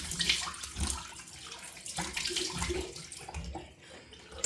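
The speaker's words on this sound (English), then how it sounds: "I'm going to rinse my face with cold water now." Cold water running from a bathroom tap as a face is rinsed after a wet shave, a steady close splashing stream with uneven bursts and no talking.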